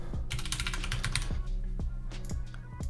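Quick, clicky keystrokes on a computer keyboard as a password is entered to link a Twitch account, an irregular run of close taps with no talking.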